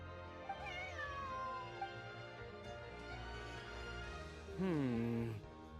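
A cat in the video game Genshin Impact meows several times, a rising and falling mew early on and a louder, longer meow near the end, with soft background sound in between.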